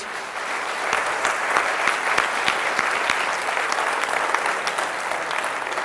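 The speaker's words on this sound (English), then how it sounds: "Let's all applaud Brennan for his speech." Steady, dense applause from a sizable conference audience after a speech, many hands clapping at once with a few sharper claps standing out, sustained throughout.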